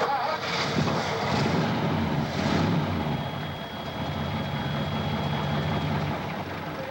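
A 1959 Mercury's stock 312 cubic inch Y-block V8 rumbles deeply and surges in revs, with wind buffeting the microphone throughout.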